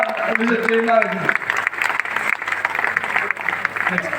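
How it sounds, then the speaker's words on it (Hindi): An audience at a recognition event in Delhi breaks into applause right after a voice stops speaking, with dense clapping that carries on steadily for several seconds. "जबरदस्त तालियां मिस्टर अंकुश कुमार मीना।"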